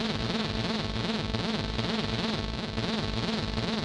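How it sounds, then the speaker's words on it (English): A dense, buzzing TAL NoiseMaker synthesizer tone smeared with a steady white-noise hiss across the whole range, continuous and loud with no pauses. "Noise adds a kind of master white noise over the whole thing."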